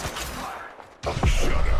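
Gunfire in the video game Apex Legends, a quieter stretch giving way to a loud burst of rapid shots and impacts in the last second.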